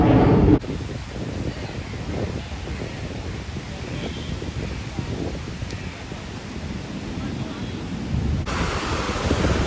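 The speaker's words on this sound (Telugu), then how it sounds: "ఈరోజు ఎటో కానీ అలలు మాత్రం టూ హెవీ ఉన్నాయి." Heavy ocean waves roll in at RK Beach in Visakhapatnam, a continuous rushing roar mixed with wind buffeting the microphone and occasional voices nearby.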